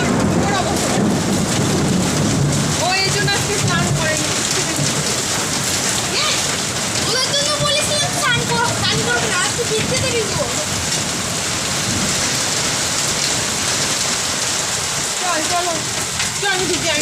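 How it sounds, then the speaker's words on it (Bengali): Heavy rain pours steadily onto a Kolkata street, a dense continuous wash of drops close by, with voices talking over it at times. "আর এমন বৃষ্টি হয়েছে দেখো রাস্তাঘাটে আমাদের গাড়ির গড়িতে পুরো জল হয়ে গেছে"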